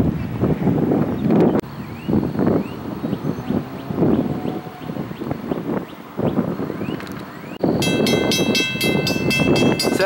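An eastbound Norfolk Southern freight train rumbles past nearby, its wheels clacking in rhythmic pulses over the rails amid wind noise, and a horn or bell-like ringing tone sounds near the end.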